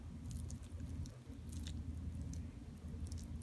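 A thick cheese, herb and cherry tomato dip mixture is dumped into a pan greased with olive oil spray, giving close, soft, wet squishing and plopping that runs steadily for a few seconds.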